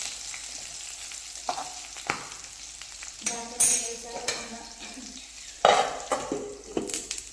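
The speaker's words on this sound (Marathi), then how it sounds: "आपल्याला तीन ते चार मिनटं अशीच मिरची बेसल्यावर इकडे भाजून द्यायची आहे" Green chillies roasting in a pan for Kolhapuri thecha: a faint sizzle broken by a few sharp scrapes and clatters of a spatula stirring them, close up, with no speech.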